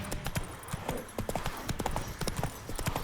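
Horse hooves clip-clop steadily in a video game, with brisk, close, moderately loud footfalls repeating throughout without speech.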